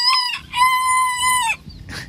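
An İspenç breed rooster crows loudly and close by, a short call followed by a long, drawn-out crow, then a brief cluck, with no talking.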